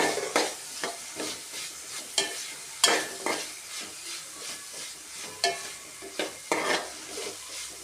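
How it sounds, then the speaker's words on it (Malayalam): Onions with turmeric powder sautéing in a pan, a steady sizzle broken by repeated scraping strokes of a stirring spoon at an even, unhurried rhythm, close and moderately loud. "ഒന്നുകൂടെ ഒന്ന് മൂത്തോട്ടെ സവോള ഏകദേശം വാടി വരുന്നുണ്ട്"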